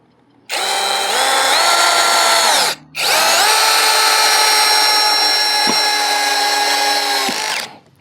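A YUANSEN cordless screwdriver set to clutch setting 25 drives a screw into a 100x100 timber beam: a loud, close motor whine in two long runs with a brief pause, ending with a ratcheting clutch click.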